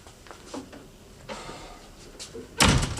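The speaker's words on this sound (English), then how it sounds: "Shut the door." A door is pushed shut in a quiet indoor room, landing as one loud, sharp slam near the end after faint shuffling and movement.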